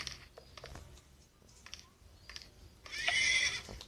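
Horse neighing in the video game Survivalcraft, a short bright whinny near the end rising over soft clicking and mechanical ticks, fairly close and without talk.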